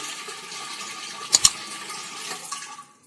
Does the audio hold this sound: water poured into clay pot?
yes